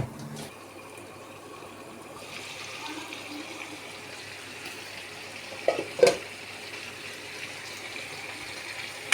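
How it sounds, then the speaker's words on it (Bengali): Chicken for a bhuna curry frying (kosha) in a covered pot, giving a steady soft sizzle and hiss throughout, with a couple of brief clanks near the end. "হালকা কষানো হোক"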